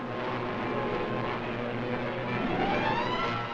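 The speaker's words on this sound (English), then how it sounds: "Enemy planes." Fighter planes on a routine morning patrol during World War II, heard as a steady, dense engine drone that holds at an even, fairly loud level throughout with no voices.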